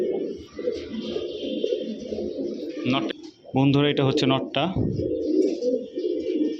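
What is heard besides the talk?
pigeons cooing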